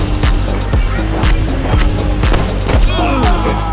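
Rapid bursts of gunfire crackle through a Roblox First World War battlefield game, with repeated sharp shots and booms landing in an uneven rhythm over a constant loud din of combat.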